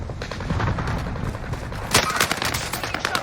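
Gunfire in the Warzone video game, a run of rapid, clattering shots with a few heavier blasts over constant in-game background noise.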